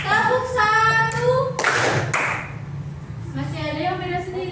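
Fourth-grade pupils clap in response to their teacher, giving two sharp, loud group claps close together between stretches of the teacher's voice.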